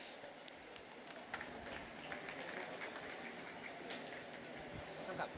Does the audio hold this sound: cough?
no